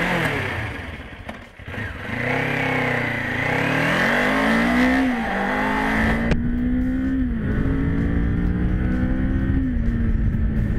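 A Kawasaki Ninja SE motorcycle engine pulls hard under riding, its close, loud tone rising through the revs, dipping briefly at a gear change, then droning steadily with wind rush.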